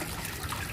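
Water flowing steadily in an improvised setup for seeding water spinach without rockwool, a soft continuous trickle with no voices.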